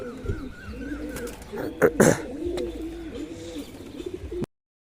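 Pigeon cooing at a rooftop loft, a close, repeated rolling coo in steady phrases, with a brief rustle of wings or movement midway and no talk.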